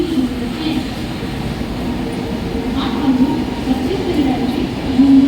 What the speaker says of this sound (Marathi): प्लॅटफॉर्म क्रमांक 1 पर आई हुई लोकल 8:21 की कर्जत जाने वाली हिमी लोकल है